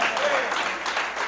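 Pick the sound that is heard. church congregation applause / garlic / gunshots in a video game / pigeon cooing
church congregation applause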